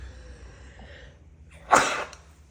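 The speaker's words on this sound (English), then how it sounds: "I'm gonna sneeze." One sharp sneeze bursts out close to the mic after a stretch of quiet room noise, brief and loud against the soft background.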